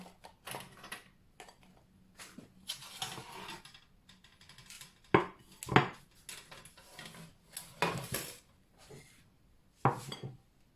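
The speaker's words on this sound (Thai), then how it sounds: "ดูเสียงกรอบมากเลยนะคะ" Sharp, irregular crunches of an oat cookie being eaten come up close, several loud bites and chews spaced across the stretch with quiet gaps between them.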